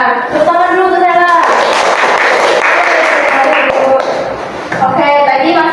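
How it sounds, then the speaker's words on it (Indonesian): Classmates clap for a student in a classroom lesson, a dense burst of hand claps lasting a few seconds, loud and close, with voices talking before and after the applause. "Tepuk tangan dulu ke Sela"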